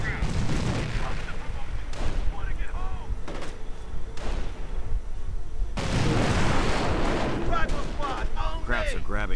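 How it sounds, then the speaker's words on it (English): Anti-tank gun and artillery fire in a real-time strategy war game rumble as dense, overlapping booms and gunfire with sharp crackles, while a commentator talks steadily over the battle. "Another anti-tank gun."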